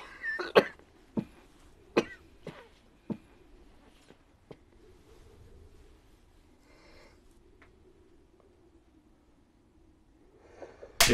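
In a quiet film scene, a man coughs beside a sleeping woman: a series of sharp, dry coughs and throat sounds early on, then soft breathing and faint shuffling in near silence.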